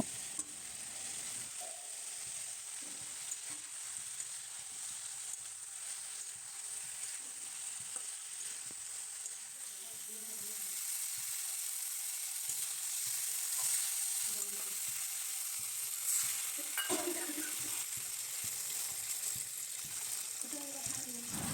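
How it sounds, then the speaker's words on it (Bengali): Fried rohu fish pieces cook down in a spicy masala, a constant close sizzle with occasional stirring scrapes and bubbling that grows slightly louder partway through, with faint speech now and then. "তারপর ভেজে রাখা মাছগুলো আমি একটা একটা করে দেওয়ার পর একটু কষিয়ে নেব।"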